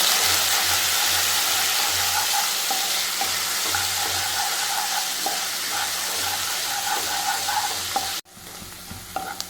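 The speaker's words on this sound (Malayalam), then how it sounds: "ഇനി നമുക്ക് ഇതിലേക്ക് ഇഞ്ചിയും വെളുത്തുള്ളിയും കൂടെ ചേർത്ത് കൊടുക്കാം" Chopped ginger and garlic frying with cinnamon in a pan give a steady, loud sizzle with soft stirring scrapes, cutting to a brief quieter stretch near the end.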